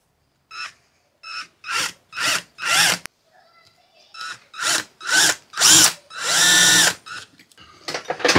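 A power drill or driver tightens screws on the mount for an LPG gas bottle in a motorhome. It runs in a string of short, loud bursts with brief pauses between them, and one longer whirring run near the end, heard up close.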